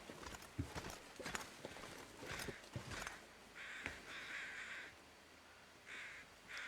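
Crows caw in the snowy wilderness of the video game The Long Dark, several harsh calls at moderate distance layered over crunching footsteps, with the cawing repeating toward the end.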